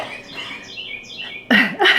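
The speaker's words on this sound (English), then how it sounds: "Did you hear the birds?" Faint, high bird chirps in the late afternoon repeat over a soft background, then a louder burst of clattering noise cuts in near the end.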